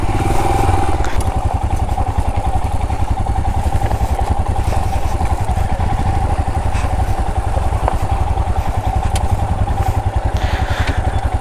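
Royal Enfield Himalayan BS6 motorcycle riding on the road to Chota Ladakh, a steady, close, throbbing single-cylinder engine note with constant wind rush throughout.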